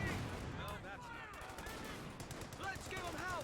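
In the World War II strategy game Company of Heroes 2, MG34 machine gun bursts and mortar blasts rattle through a dense, continuous battle soundscape, with rapid repeated gunfire layered over booming impacts.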